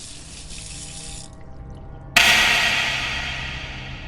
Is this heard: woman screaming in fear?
no